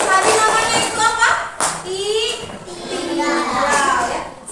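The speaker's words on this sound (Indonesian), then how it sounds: "Oke, beri tepuk tangan." Children in a classroom clap their hands together in a burst of applause, mixed with excited young voices and chatter throughout.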